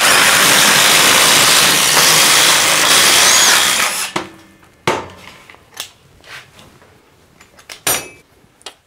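Two cordless impact drivers, a DeWalt XR DCF845 and a Milwaukee Fuel Gen 4, run flat out together with a loud, continuous whine, then stop abruptly, leaving scattered knocks and clatters of handling.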